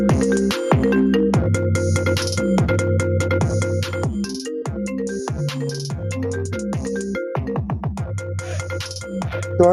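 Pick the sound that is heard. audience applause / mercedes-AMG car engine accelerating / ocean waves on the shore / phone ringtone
phone ringtone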